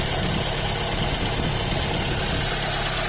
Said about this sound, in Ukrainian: Закручуємо гвинт якості палива, суміш стає бідною, двигун починає скидати оберти